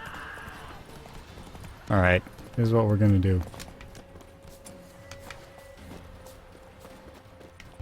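Horse hooves clip-clopping in The Witcher 3: Wild Hunt, a light steady patter of hoofbeats running under someone speaking in the middle of the clip.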